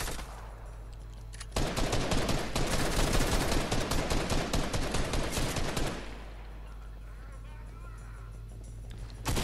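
Rapid automatic gunfire in the video game Fortnite erupts in a dense, continuous burst lasting several seconds, then cuts back to quieter background sound.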